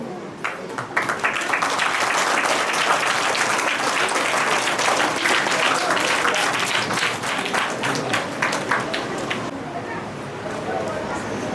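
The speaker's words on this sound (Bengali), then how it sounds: "একটু মৃদু করতালির ধ্বনি হোক।" Steady applause from a seated school audience welcoming a monk onto the stage, a dense continuous patter of many hands at moderate volume that carries on for over ten seconds, with faint voices underneath.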